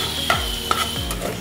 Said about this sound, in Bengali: তো একদম হালকা মতো করে ভাজবো, যেই তেলটা আছে সেটাতেই।